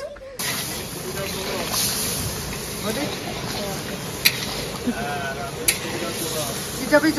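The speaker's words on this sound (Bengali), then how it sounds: "খাসি খাসি কষানো চলছে" Mutton (khasi) sautéing in a pan in a home kitchen gives a steady, close hiss and sizzle throughout, with a few sharp clicks and taps from stirring.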